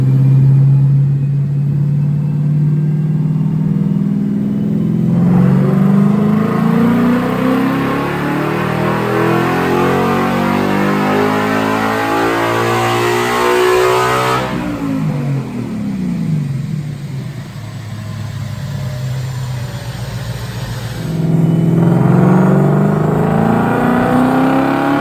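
Coyote-swapped S197 Ford Mustang on a dyno at Brenspeed, its V8 engine revving loud and close through two long climbing pulls, rising in pitch and falling back between runs, with no talk.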